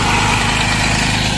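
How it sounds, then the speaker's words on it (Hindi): An auto rickshaw's small engine runs close by, a loud, steady idling drone with a buzzing rattle that holds the same pitch throughout. "मामा ऑटो लेकर के जा रहे हैं"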